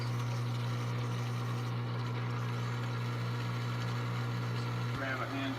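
A food waste grinder for worm food running with a steady low droning hum, continuous and fairly close, with a brief shift in tone near the end.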